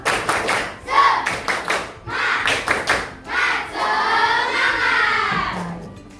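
Schoolchildren in a classroom perform a rhythmic spirit clap, sharp patterned bursts of hand claps in quick groups separated by short pauses, ending in a sustained shout of many young voices.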